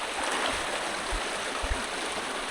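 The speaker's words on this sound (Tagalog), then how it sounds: "Dito, malakas yung current mga lods oh." Strong current of floodwater rushing steadily, a loud continuous broadband roar with faint gurgling pulses, close and alone with no voices.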